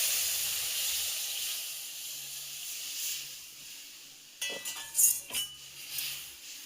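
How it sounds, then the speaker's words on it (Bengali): Tamarind water poured into a hot pan with curry leaves and turmeric, giving a steady soft hiss, then a burst of louder sizzling splashes and crackles toward the end. "তেঁতুলগুলো সেই জলটা দিয়ে দিচ্ছি।"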